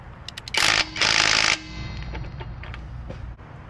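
A brand-new Hyper Tough 12V cordless impact wrench rated at 280 foot-pounds hammers at a stubborn bolt in two short loud bursts, the second longer, followed by quieter handling noise.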